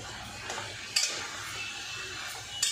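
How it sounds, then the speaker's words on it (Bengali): Green chilies and taro greens being stirred and sautéed in a pan, with a soft steady sizzle underneath and a few bright scraping clinks of the spoon against the metal. "এবার ভালো করে কষবো"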